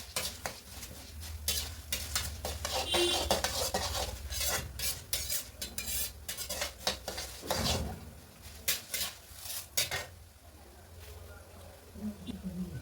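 Urad dal and chillies frying in a pan, a soft sizzle under repeated stirring scrapes and metal clinks, with people talking at times.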